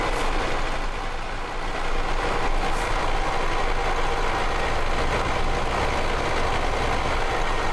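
A rattly old Mack CH 613 truck idles in American Truck Simulator, a steady, loud, dense engine rumble with a constant rattle and no pauses.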